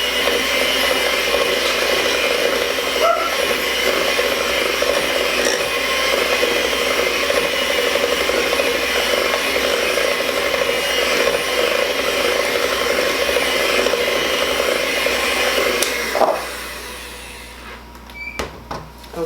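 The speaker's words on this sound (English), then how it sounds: "I'm going to mix it a bit longer." An electric mixer beating chocolate cake batter gives a steady, loud whirring drone for most of the time, then winds down and stops near the end.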